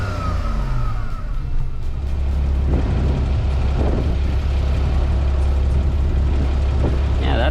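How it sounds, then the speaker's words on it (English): A Porsche Cayman engine heard from outside the car, with a steady low rumbling idle, a slight rev near the start and a few faint knocks and rustles in the background. "let's see how the car sounds from the outside"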